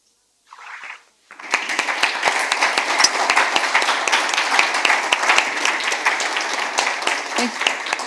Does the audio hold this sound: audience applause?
yes